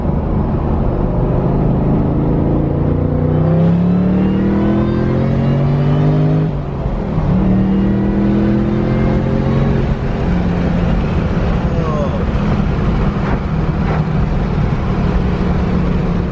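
A 2003 Mustang Cobra pulling hard in second gear, its engine note rising steadily and loudly before a shift, then droning on at high speed with road and wind noise underneath.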